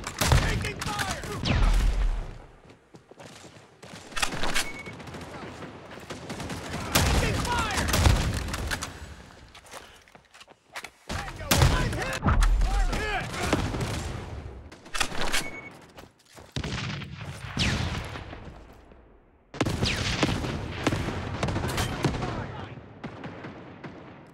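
Heavy gunfire and explosions in a team deathmatch of the mobile shooter Modern Strike Online, dense loud bursts rolling in waves with brief lulls, with voices calling out over the battle.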